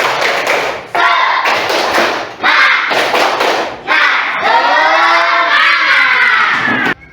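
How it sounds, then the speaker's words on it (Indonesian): A classroom group claps out a 'tepuk semangat' icebreaker in loud, rhythmic bursts of clapping and shouting, which break off briefly between phrases and end in a long sustained group cry. "Bapak minta kita tepuk semangat."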